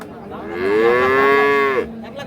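A single long, loud moo from a Holstein Friesian dairy cow, drawn out for over a second with a rising, harmonic tone, then fading to quiet background.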